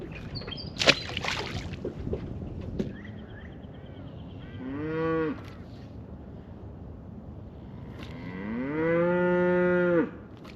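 A cow near a river bows out two long, loud moos, one short and one drawn out, after some bumping and rustling noises close by.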